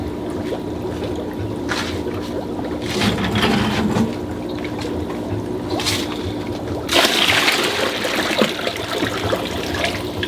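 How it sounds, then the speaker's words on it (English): Water splashes and trickles continuously as guppies and water are poured into a pond, with a surge of pouring and gurgling partway through, fairly close, with no voices. "We're going to pour the guppies in."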